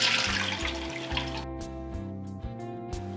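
Water runs and splashes as soaked multigrain for pulao is rinsed in a bowl, a steady close wash with gurgling pulses and no talking.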